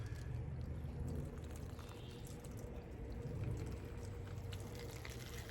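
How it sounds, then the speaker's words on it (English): Garden plants being watered, a steady broadband rush of water pouring onto dry soil, close and continuous throughout with no talk. "You want to water them pretty good"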